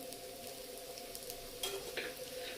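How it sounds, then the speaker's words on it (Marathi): Upvasache thalipeeth, a fasting-day flatbread, sizzles and fries steadily in a pan with a little oil added at the side, a constant close crackle with brief louder spits. "इथे छान आपलं थालीपीठ उपसाचं तयार झालेलं आहे साईडने थोडं तेल टाकूया अजून"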